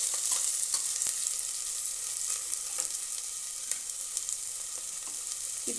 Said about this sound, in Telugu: బాగా ఆనియన్ అనేది కొంచెం కలర్ చేంజ్ అయ్యే వరకు ఫ్రై అయితే చేసుకుంటాము.